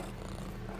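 A cat purrs steadily up close, a low soft rumbling that continues evenly through the brief moment.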